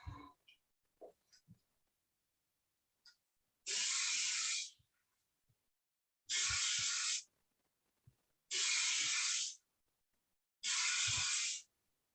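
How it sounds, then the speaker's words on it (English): An airbrush sprays a coat of paint in four separate bursts of steady, close hiss, each lasting about a second, separated by quiet gaps with small handling clicks. "so what I'm doing with the airbrush is I'll go up and down, one pass, and then I'll come back and do it again, one pass"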